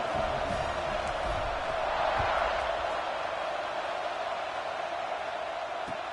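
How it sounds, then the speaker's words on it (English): A stadium crowd in a college football video game keeps up a steady, dense roar and buzz throughout, loud and unbroken, with a faint voice underneath. "this crowd is buzzing after that last score"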